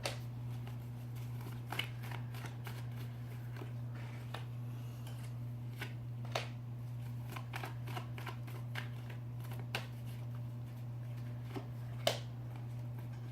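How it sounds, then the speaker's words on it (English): Tarot cards being pulled from the deck during a reading, heard as scattered faint flicks and soft snaps spread over several seconds, with a steady low hum in the background and no talk. "I don't turn over the cards until I pull out all of the cards for the reading"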